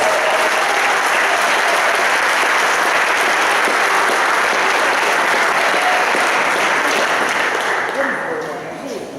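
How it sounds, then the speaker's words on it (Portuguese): Church congregation applauding during a service at an apostolic temple, a loud, dense and steady roar of clapping that fills the room before tapering off at the very end. "Dá um aplauso para Jesus."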